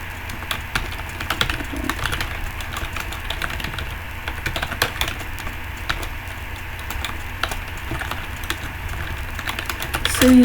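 Rapid, irregular clicks of a computer keyboard being typed on while coding CSS and HTML, close and continuous with brief pauses, and a voice faintly in the background.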